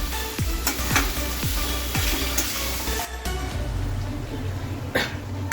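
Chicken fries in thick masala in a pan with a loud, continuous sizzle, and a spoon scrapes and stirs in rhythmic strokes about once a second.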